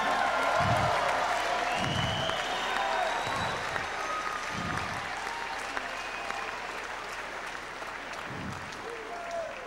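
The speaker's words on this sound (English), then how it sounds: "So let's give him another round of applause," Boxing arena crowd at a David Tua vs Talmadge Griffis heavyweight fight applauding a defeated fighter, steady broad applause with cheering throughout, loud and continuous, with a few low thumps and murmuring voices mixed in.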